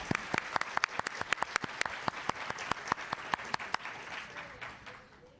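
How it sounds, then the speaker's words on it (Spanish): A small audience at an accounting and auditing seminar gives a short round of applause. The claps are sharp and fairly close, with a few distinct hands in a loose rhythm, thinning and fading out toward the end. "Aplaudimos."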